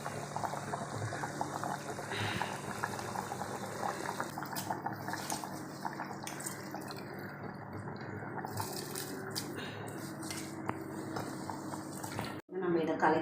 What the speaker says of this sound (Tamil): நல்லா பிரியாணி சலசலம் கொதிக்கும் தண்ணி.